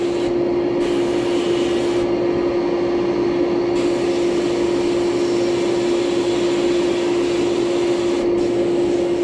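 Air compressor runs loud and steady during bead blasting, a constant hum with a strong tone and a broad hiss over it, uninterrupted throughout.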